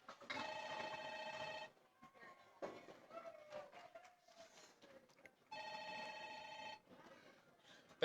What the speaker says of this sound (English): Bat phone, Commissioner Gordon.